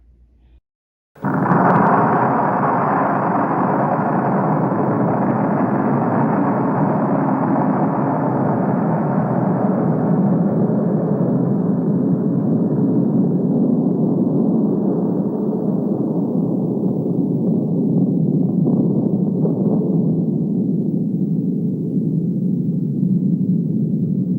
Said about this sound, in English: This was the footage of the first Soviet Union atomic bomb test